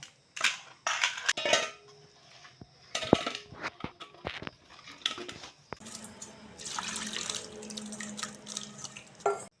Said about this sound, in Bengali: এখন মাছ ভালো করে ধুয়ে নেব